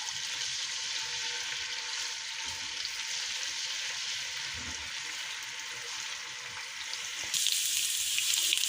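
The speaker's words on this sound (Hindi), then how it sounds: "अब हम इसे तकरीबन 1 मिनट के लिए फ्राई कर लेंगे।" Ginger garlic paste frying in hot ghee, a steady close hiss of sizzling that holds level throughout and grows slightly louder near the end, with no voices.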